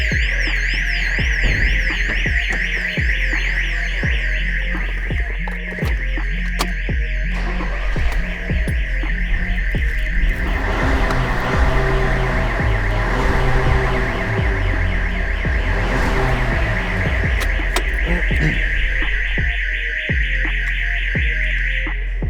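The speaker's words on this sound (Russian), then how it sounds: "Тревога по дверям." Car alarm siren set off when the doors of an armed car are opened with its original key, a loud, repeating electronic warble with rhythmic pulsing and a steady low hum, sounding alone and continuously for over twenty seconds.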